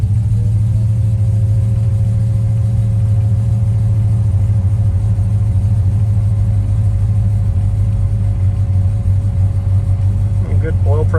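A 1955 Chevrolet Bel Air engine idling just after start-up, a steady low rumbling drone throughout, close and loud with someone talking over it.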